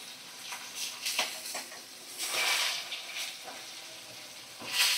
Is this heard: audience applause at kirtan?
no